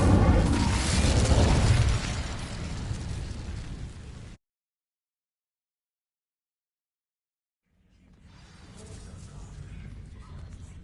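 Fiery spell bursts loudly as dry vines catch and ignite in the Hogwarts Legacy video game, a dense crackling roar for about four seconds, then silence, then a quieter sustained rumble returning.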